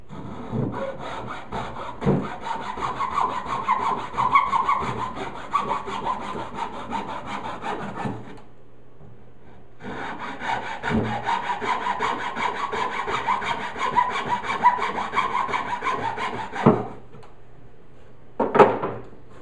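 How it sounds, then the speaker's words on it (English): A handsaw cuts through wood in two long runs of steady back-and-forth strokes, close and clear, separated by a brief pause, ending with a short final scrape. "I'll do one more, see how I do with the handsaw."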